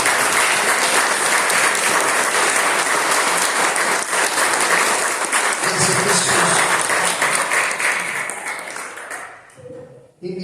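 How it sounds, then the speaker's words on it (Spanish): A church congregation applauds loudly and steadily for about eight seconds during a service, the clapping thinning and fading toward the end with a brief lift at the close. "Dale un fuerte aplauso a Dios."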